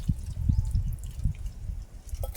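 Tap water running and dripping as freshly picked herb leaves, a plant said to dissolve kidney stones, are rinsed by hand, with irregular close splashes and drips over a steady low rush.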